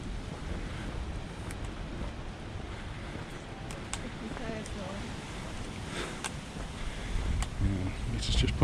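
Waves wash against a rocky sea defence along the coast, a steady rushing surf mixed with wind buffeting the microphone, growing a little louder toward the end.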